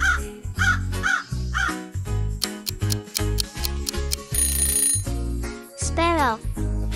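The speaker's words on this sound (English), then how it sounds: "The crow is black and says caw-caw." Crow cawing, a series of loud harsh calls in an uneven rhythm set over a musical backing, with a brief rising warble near the end; a voice also speaks.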